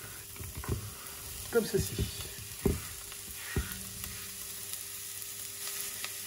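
Onions fry gently over lowered heat at the bottom of a casserole pot, a soft steady sizzle broken by a few utensil scrapes and knocks; a voice speaks briefly.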